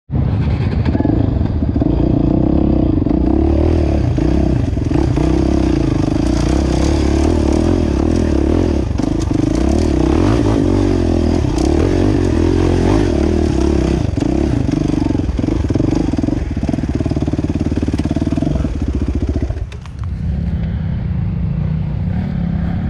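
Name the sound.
many motorcycles riding up a trail hill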